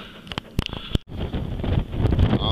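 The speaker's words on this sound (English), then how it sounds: "it's cold, snowing, and pretty windy" Gusty wind buffets the microphone with a low roaring rumble that builds and stays strong, after a few sharp knocks at the start, on a cold, snowy day during a flood.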